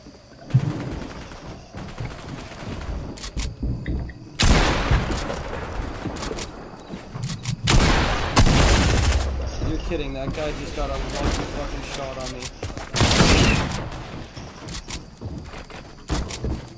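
Video game gunfire in loud bursts and rattling volleys, some heavy booms among them, while a player talks over much of the action.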